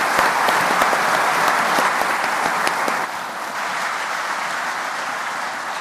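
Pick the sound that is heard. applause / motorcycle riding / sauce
applause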